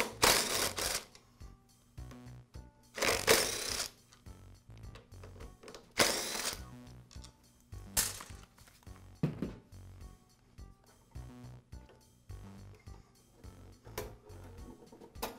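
Screws being removed from the primer base on a Briggs & Stratton small engine carburetor, heard as several separate bursts of small power-tool or driver whirring with quiet clicks and handling noise in between.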